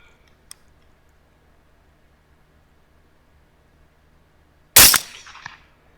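A single loud rifle shot cracks out at a hog during a hunt at about 185 yards, a sharp blast followed by a brief rolling echo after several seconds of near silence and one faint earlier click.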